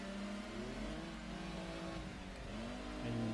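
Engine of a black Daihatsu Sirion in a Gran Turismo 2 race, a steady faint revving drone with gear-shifting pitch changes under other engine noise, rising slightly at the end.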